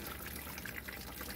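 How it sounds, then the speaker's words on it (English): Coolant water gushes from the opening left by a removed water pump on a 2002 Oldsmobile Silhouette van and splashes into a bucket, a continuous close splattering rush with no talking. "Some water's pouring out."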